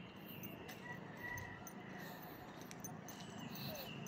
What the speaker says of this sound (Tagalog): Narinig mo yung huni ng mga ibon dito.